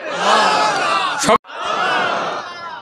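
A large crowd at a religious sermon shouting the takbir in unison, a loud sustained roar of many voices that breaks off briefly and then swells again into a second long collective shout.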